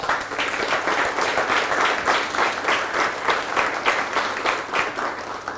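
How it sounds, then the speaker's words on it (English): Audience applause rolls through a city hall State of the City address, a sustained, moderately loud clapping with a pulsing texture and no talking over it. "Jenny, I want to give you a round of applause"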